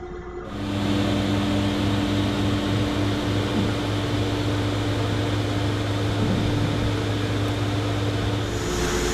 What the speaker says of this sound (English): The drain plug is transferred from the primary spindle to the subspindle, and we'll be producing the hex head along with the PPE engraving.